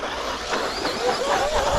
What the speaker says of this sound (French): Les pneus, on sent, on les entend qui frottent, qui grattent le sol.